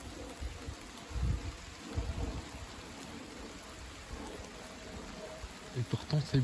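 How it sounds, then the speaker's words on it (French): Light rain falling outdoors near Paris during an evening shower, a soft steady hiss with a few low rumbling thumps and gusts, a faint brief voice sound near the end. "Ça pleut encore."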